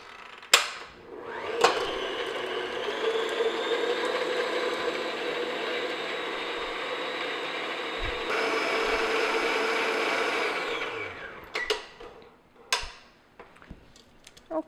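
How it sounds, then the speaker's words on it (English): An electric mixer beats cream cheese in a bowl for pumpkin cupcake batter, running as a steady close whir for about ten seconds with a slight pitch change partway, framed by clunks and taps before and after. "I'm going to beat this until it's nice and creamy and smooth"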